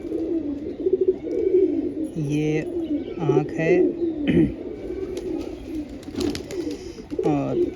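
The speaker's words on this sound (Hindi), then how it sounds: "ये पुरानी हमारी सहारनपुरी नस्ल जो है उनमें है। ये पुराना कबूतर है।" An old Saharanpuri breed pigeon coos in low, throaty, repeated rolls, close and steady, while someone talks over it now and then.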